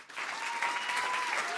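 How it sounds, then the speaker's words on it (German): Audience applause from a live comedy crowd, steady dense clapping that sustains evenly for the whole stretch at moderate loudness. "Vielleicht mal ganz kurz klatschen."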